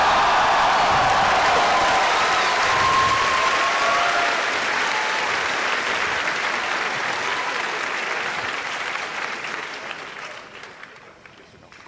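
A convention panel audience of about 4,000 people bursts into loud, dense applause and cheering that holds strong for several seconds and then slowly thins and fades toward the end.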